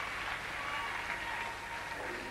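An arena crowd at a women's gymnastics event finals applauds after a vault, a steady wash of clapping at moderate distance lasting a couple of seconds.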